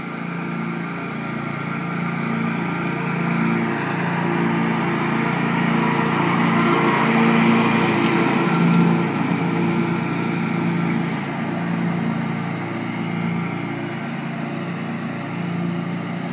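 A Bobcat lawn mower drones steadily while mowing a backyard, its engine holding a constant, loud hum from start to finish, with no break in the note.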